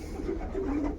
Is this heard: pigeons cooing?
yes